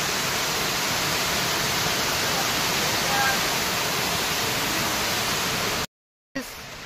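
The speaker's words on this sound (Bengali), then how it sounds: "এই যে আমাদের ঝর্ণা নামছে উপর থেকে, ঝর্ণার কাছে আপনাদেরকে নিয়ে যাচ্ছি।" A waterfall cascading down from above near Sevoke Road, Siliguri, a loud continuous broadband roar of falling water filling the scene, steady throughout before a sudden brief dropout.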